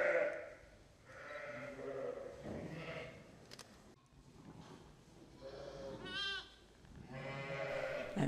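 Lambs and ewes bleat in a sheepfold in Lozère, with several wavering calls spread across the clip, some close and loud, one high quavering lamb cry standing out, over a steady barn background.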